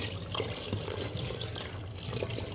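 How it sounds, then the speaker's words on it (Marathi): Water being poured into a hot pan of spiced dal for a thin amti, a steady close splashing stream for a couple of seconds. "आता ह्यात मी पाणी वतून घेणार आहे"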